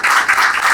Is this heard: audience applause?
yes